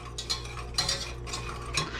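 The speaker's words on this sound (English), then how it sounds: "I'm going to whisk it around." A whisk scrapes and clinks around a bowl of cocoa powder and salt, a few quick bursts of metallic stirring close by.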